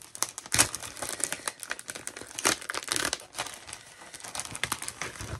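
Dense, crackly scratching of a rub-on transfer sheet being rubbed onto a surface, with rapid irregular scrapes and crinkles close up for several seconds, no talking.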